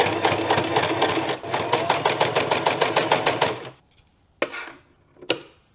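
A sewing machine stitches folded kurti fabric in a rapid, rhythmic run of needle beats lasting a few seconds, then stops. A few sharp clicks and knocks follow in the quiet. No one speaks.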